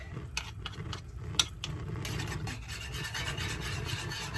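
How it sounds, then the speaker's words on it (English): A whisk working through a vegetarian curry mixture in a pot, making repeated close scraping and rubbing strokes with a few sharp taps against the side, steady and alone. "Now sometimes when I don't want to take the time for it to mix in, I get out my whisk."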